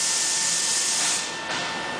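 Spray machine spraying lightweight hot pipe coating, a loud, steady hiss of pressurized spray that shifts and dips briefly partway through, up close with no voices.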